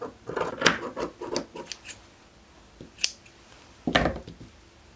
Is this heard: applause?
no